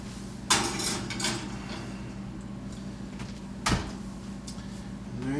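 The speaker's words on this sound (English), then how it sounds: "Pop it in the oven, uncovered." Pans of pork tenderloin slide into an oven with a loud metallic clunk, then a second clatter of the oven door and rack, a steady hum of the kitchen running beneath.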